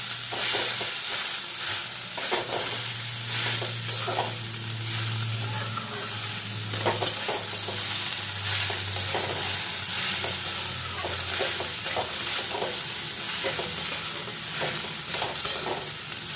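Banana stem and papaya with ginger and green chili paste are stirred in a pan, each stroke scraping rhythmically over a steady sizzle, with a low hum in the background and no speech.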